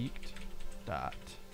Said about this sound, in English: Sorry I have such a loud keyboard. It's one of those cheap mechanical